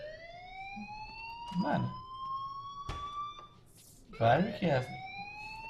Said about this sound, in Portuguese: Que alarme é esse, cara?